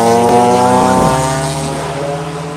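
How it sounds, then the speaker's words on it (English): Maserati car engine droning loud and close, a sustained harmonic roar with a brief surge in pitch early on before it settles and fades slightly. "This Maserati is loud."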